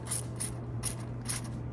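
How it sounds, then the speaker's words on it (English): Spray bottle misting the leaves of houseplants: four short, crisp hissing spritzes at uneven intervals, close by, over a faint steady hum. "And look, I'm gonna spray."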